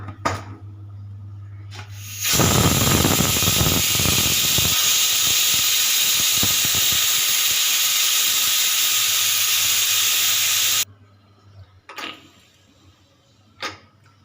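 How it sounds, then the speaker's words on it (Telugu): A pressure cooker of vegetable pulao lets out a loud, sustained steam whistle and hiss for about eight seconds, sharp and close, with a low hum and brief hissing bursts before and after. "ఒక 3 విజిల్స్ రానిచ్చుకుందాం."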